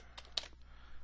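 A parameter is tapped out on a computer keyboard, a few quick, light key clicks in an uneven patter followed by quieter, sparser taps, close and soft against a faint room hum.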